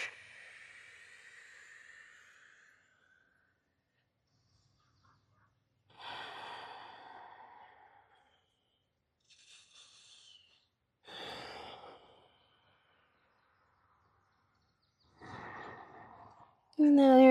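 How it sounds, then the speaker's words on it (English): Slow breaths in and out during a yoga hip-opening flow, soft airy inhales and exhales arriving one by one with long quiet gaps between them. "Just whatever you do, breathe in"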